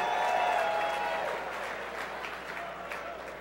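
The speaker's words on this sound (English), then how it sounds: "I'm not sure if you're applauding for or against that" An awards-show crowd at the GLAAD Media Awards applauds, a broad, even wash of clapping that holds fairly loud, then eases slightly toward the end.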